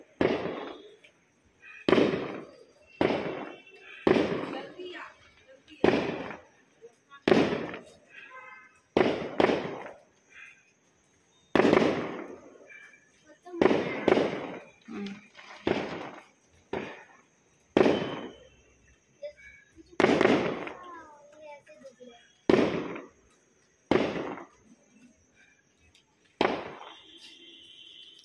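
Firecrackers and fireworks bursting outdoors at night, a long series of sharp cracking bangs every second or two, each trailing off in echo, moderately distant with brief gaps between blasts.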